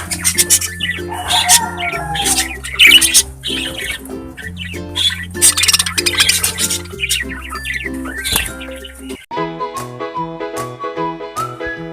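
Three parakeets and an English budgie chirp and whistle in busy overlapping calls over steady background music, with clearer bursts of chatter near the start and middle.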